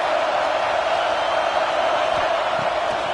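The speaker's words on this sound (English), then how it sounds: "Decibels rising as the crowd gets behind this defense on third down" A large football stadium crowd at a college game roars on third down, a dense, sustained wall of cheering and noise that holds steady at high volume from start to finish.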